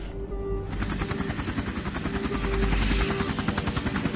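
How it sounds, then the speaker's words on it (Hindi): A helicopter's rotor beats in a steady, fast chop with a loud engine whine behind it, close and continuous for the whole stretch, with no voices over it. "डॉक्टर आपके लिए हेलीकॉप्टर मंगाया है।"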